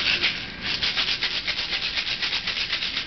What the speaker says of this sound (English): Shake it vigorously again.